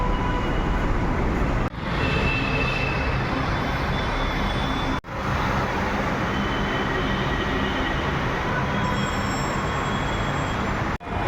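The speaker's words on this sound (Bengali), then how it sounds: "নিচে রাস্তা আর ওপরে হচ্ছে মেট্রো।" An elevated Kolkata metro train running, a loud, steady rumble of wheels and carriage noise with two brief dips. No one speaks.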